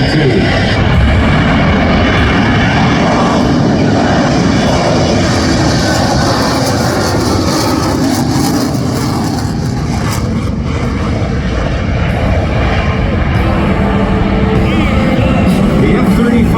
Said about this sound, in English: the F-35 Lightning II